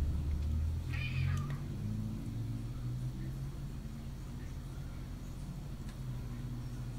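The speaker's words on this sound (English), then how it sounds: "That cat wants something outside of the door." A cat meows at a door, one brief meow early on, fairly faint against a loud, steady low rumble of background noise.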